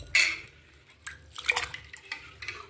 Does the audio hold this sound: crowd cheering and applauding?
no